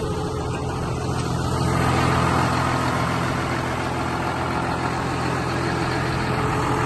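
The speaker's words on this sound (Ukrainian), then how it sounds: "Двигун працює як часики рівномірно, ніякої вібрації не подає, ніякого диму сивого." A John Deere 6920 tractor engine idles steadily nearby, a continuous even diesel rumble with no change in pace and no voices.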